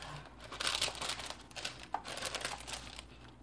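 Glossybox beauty box packaging being opened, with soft close crinkling and rustling of paper and wrapping that continues steadily throughout, with a small tap midway.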